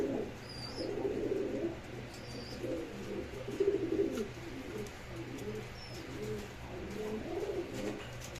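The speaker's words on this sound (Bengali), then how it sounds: "এটা হচ্ছে মাদি, এটা হচ্ছে নর কবুতর" A male and female pigeon pair of a large-bodied fancy breed coo in soft, low, repeated phrases close by, with faint high chirps now and then and no talking.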